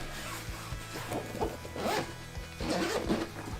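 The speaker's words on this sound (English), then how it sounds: "Go ahead and unzip this and open her up." A zipper is drawn around a black hard canvas case with a strap and handle, several rasping pulls close up with short pauses between them.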